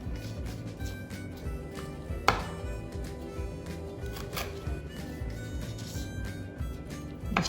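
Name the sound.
knife splitting red chilies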